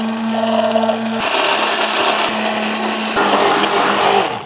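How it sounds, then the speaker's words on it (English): An immersion blender whirs steadily through hollandaise sauce as boiling butter is poured in, a loud close motor whine that shifts in pitch and load several times over a few seconds, with no voices. "bust out the immersion blender and get right in there"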